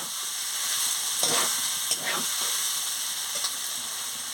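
Soybean chunks and potato frying with spices in a pan give a continuous sizzle, broken by a few scraping stirs and spatula knocks.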